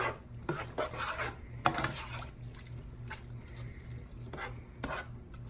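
Chopped green chilies stirred into a beef burrito skillet, giving soft wet scraping and sloshing strokes with a few sharper utensil knocks against the pan over a low, steady background hum.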